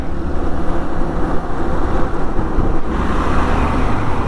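Steady broadband road noise from a motorbike ride through traffic in Dharmapuri on a very hot day, with engine rumble and wind buffeting continuous and loud throughout, no voices.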